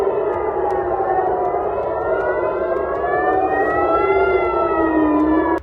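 Civil defense warning sirens wail across Israel during missile attacks, several loud sustained tones rising and falling and overlapping, sounding alone without speech until cutting off abruptly.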